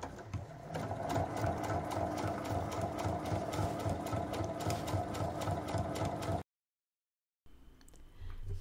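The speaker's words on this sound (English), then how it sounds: "no knots, no stalls, just top stitching." Sewing machine topstitching a blouse, a steady fast mechanical whir and rapid stitch clatter running continuously, then stopping abruptly into silence before a faint rustle.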